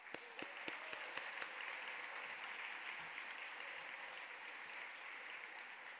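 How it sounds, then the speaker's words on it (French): An audience at an awards gala in Ottawa applauds steadily throughout, a dense, sustained wash of clapping with a few sharp individual claps at the start. "On peut les applaudir."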